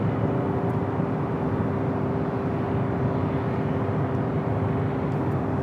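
An Airbus A321neo LR airliner at Los Angeles International Airport makes a loud, continuous broadband jet roar with a faint steady tone running through it, unbroken throughout and with no voices.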